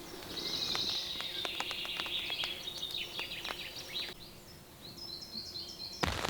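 Small birds chirp and sing repeatedly in a forest during rain, bright twittering calls over a steady wash of rainfall, fairly close and clear, with a brief louder knock at the very end.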